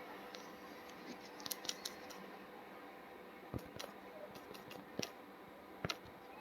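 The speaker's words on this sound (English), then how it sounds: "let me type in a password" Password typed on a computer keyboard while setting up a Deriv account for MT5: a few soft, scattered key clicks in irregular bursts over a quiet room hiss, with no talking.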